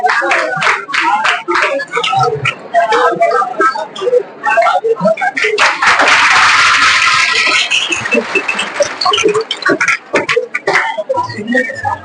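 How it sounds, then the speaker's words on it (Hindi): Audience applause breaks out at a coaching institute award ceremony in Goh, building into a dense burst mid-way among scattered claps while a presenter keeps speaking over it. "आप लोग तालियों का गुंजार बरकरार रखिए एनी टाइम।"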